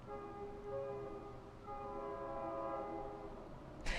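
A passing train sounds its horn far in the distance, a faint sustained chord that drifts in pitch for several seconds over a low steady rumble, with no voices.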